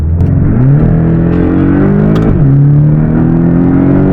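A Porsche Boxster's flat engine revs up sharply, holds a loud steady drone, drops back briefly and then climbs again, heard up close and alone.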